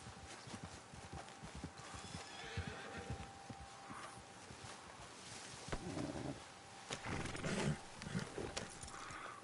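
Horse hooves clip-clopping in the game Red Dead Redemption 2, with a whinny or neigh rising around the middle and end, a steady rhythmic clatter over ambient outdoor noise.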